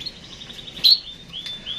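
A female canary in its cage gives a few faint, thin chirps, with one sharper tweet in the middle and another short one near the end, over quiet background with no talking.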